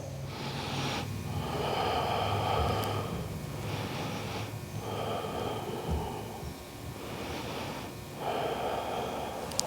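Deep, steady breathing during a yoga twist sequence, with slow alternating inhales and exhales in a rhythmic cycle of roughly two-second breaths, close and continuous, with no talking.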